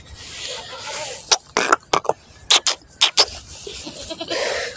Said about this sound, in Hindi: अभी बकरियों के पास जाऊंगा, बकरियों का मुझे बड़ा शौक है